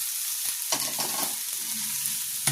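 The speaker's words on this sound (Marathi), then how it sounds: "ह्या भाज्या आहेत त्या आपण कांदा, टोमॅटो याच्यामध्ये मिक्स करत आहोत" Bhogi mixed vegetables being stir-fried in oil with onion and tomato, a steady close sizzle broken by a few scraping stirs of a spatula against the pan, with no talking.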